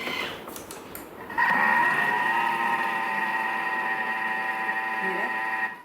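A Thermomix clatters briefly, then spins up at speed 4 into a loud, steady motor whine mixing corned beef fritter batter, holding at a constant speed before cutting off.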